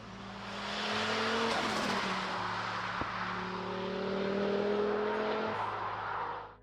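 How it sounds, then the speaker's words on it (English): Volvo 850R with a turbocharged five-cylinder engine, a throaty drone that swells and holds as it accelerates, steady and close with a brief dip midway. "it's the sound of the 5-cylinder engine that truly captures the essence of driving this car."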